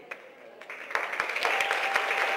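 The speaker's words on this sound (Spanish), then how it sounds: "le demos un sonoro aplauso a la directora de nuestra academia" Audience applause at an academy event builds from a few scattered claps into a fuller, sustained round, with a faint tone running beneath it.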